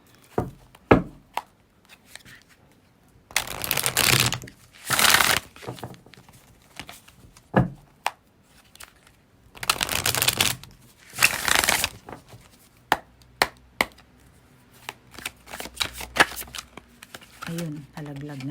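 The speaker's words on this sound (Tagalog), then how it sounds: "binabalasa ko siya" Cards riffled and shuffled close up in several bursts, with scattered taps and soft handling noises in between.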